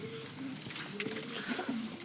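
A pair of red Chinese pigeons, a cock and hen, coo in soft repeated low calls close by, with faint background noise and no clear talk.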